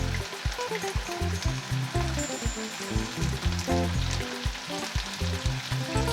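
Beef for a stew sizzles and spatters loudly and continuously in a hot pan, with stirring clatter and bubbling, no voices.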